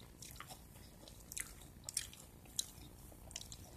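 Crisp, faint crunches come from biting into breadcrumb-coated fried dory or fried fish roe, with a few sharp bites spread over quiet chewing.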